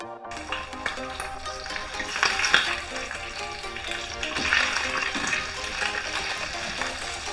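Pork curry cooked Nepali style sizzles and fries steadily in a pan, a dense continuous crackle with soft stirring scrapes rising now and then, fairly close and alone without talk.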